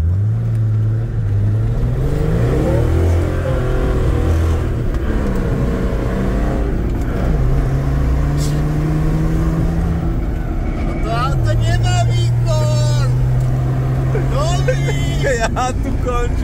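A car engine hums and revs up and down in steady, rising and falling pitch, heard from inside or close to the vehicle, with people talking over it throughout.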